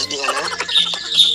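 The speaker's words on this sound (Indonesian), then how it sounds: "Itu suara ayam, dan suara ayam di masnya." Brief clucking and squawking from chickens, heard over a phone line, short harsh calls close together and mixed with voices talking.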